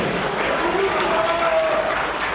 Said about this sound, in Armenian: Կուզենամ ջերմ ծափարեք մեծ հոպարին Վիկտոր հոպարին ջերմ ծափարությունները